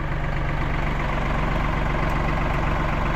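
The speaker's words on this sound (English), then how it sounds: "bring the tractor forward." Tractor engine running while driving forward during tree removal work, a steady, loud low rumble throughout with no voices.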